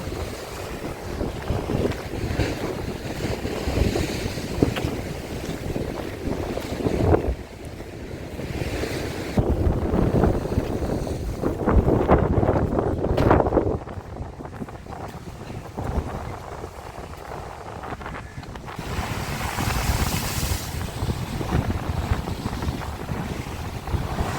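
Rough, stormy sea waves crash and wash ashore continuously on the Odesa coast, mixed with heavy wind buffeting the microphone, with no voices.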